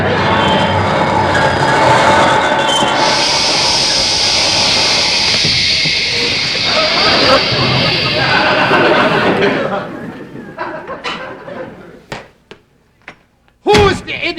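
A train runs loudly with a continuous rushing roar and rumble, then slows and stops around ten seconds in, leaving brief clanks and knocks, with speech at the end, on an old television comedy variety show.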